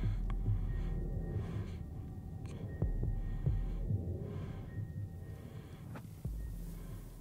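A pulsing, low heartbeat from Ghost Recon Wildlands throbs steadily under a droning hum of game ambience, with a few sharp clicks and thumps breaking in across the stretch; no one talks.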